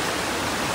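The Eaton Canyon waterfall roars as a dense, steady rush of falling water, close and loud for under a second with no voices.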